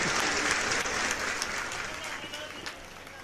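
Loud, sustained applause from an audience, a dense wash of clapping that slowly tapers off.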